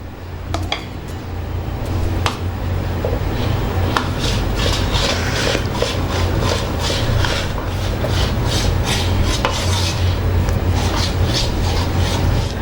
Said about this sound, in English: Now I'm going to take a little bit on my spatula and keep it on a side like this and spread it on the side.